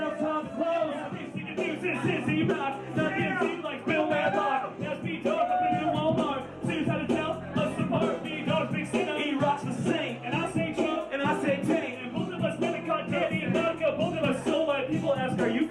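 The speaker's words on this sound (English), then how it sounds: "Listen to that crowd." Dense roar of a packed concert crowd, continuous cheering and shouting with indistinct voices layered throughout, loud and sustained at an early show by a country act.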